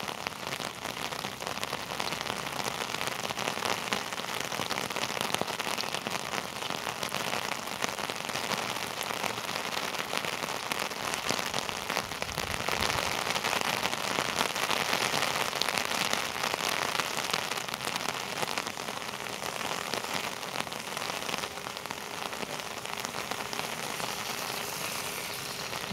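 A heavy rainstorm pours down on a city street in Norwich, Connecticut, producing a steady, dense hiss of rain striking the pavement and surfaces nearby, continuous and loud throughout with no voices.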